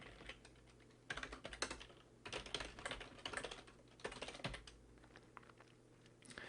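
Computer keyboard typing while writing C code, bursts of quiet, close keystrokes in uneven rhythm separated by short pauses.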